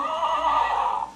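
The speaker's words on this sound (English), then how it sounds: "Oh, there's the horse." A horse neighs once, a loud, close whinny lasting about a second with a wavering, tapering pitch, heard alone.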